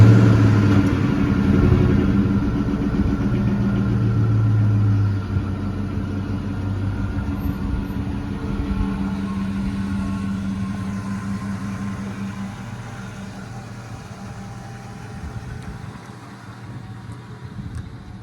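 Ford Mustang GT V8 heard from outside, a steady low rumble that is louder for the first five seconds, then settles into a lower idle that slowly fades.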